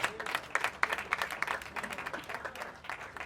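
A crowd applauds, steady dense clapping that fills the whole stretch at moderate volume.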